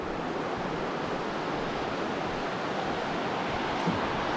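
The Middle Fork of the Snoqualmie River near North Bend, Washington, flowing in a steady, dense rush of water, constant and moderately loud, with no talking.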